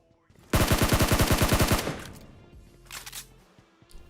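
Rapid automatic gunfire in the mobile battle-royale game PUBG Mobile, a loud sustained burst of about a dozen fast shots lasting over a second, then a trailing echo and a couple of fainter distant shots.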